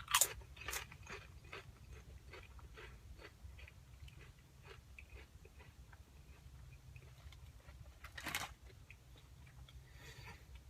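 Lay's Southern Biscuits and Gravy potato chips crunch between the teeth, with a sharp bite at the start and another a few seconds before the end, and quieter chewing crackles in between at close range.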